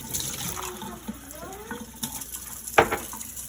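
Water is poured into a wet measuring cup in a kitchen for a cooking project, a soft, fairly faint trickle and splash with a brief louder gush near the end.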